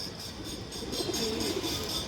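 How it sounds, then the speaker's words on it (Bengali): Old-breed Chila pigeons coo softly nearby, a low murmuring call rising briefly in the middle over a faint background hiss. "পুরান জাতের চিলা কবুতর"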